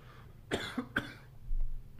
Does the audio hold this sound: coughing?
yes